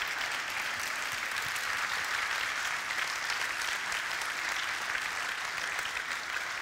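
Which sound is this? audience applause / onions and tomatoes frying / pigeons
audience applause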